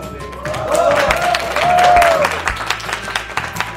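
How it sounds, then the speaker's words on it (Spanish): Outdoor crowd applauding artists presented on stage at the Pride march in Mexico City, a broad wash of clapping and cheering with a whistle-like tone sweeping through, loud and sustained before easing off. "si les podemos dar un aplauso a cada uno porque son grandes estrellas"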